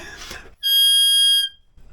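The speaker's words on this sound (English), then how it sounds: "Emergency whistle." A shrill, piercing whistle blast with strong harmonics sounds once, steady for nearly a second, after a brief bit of noise.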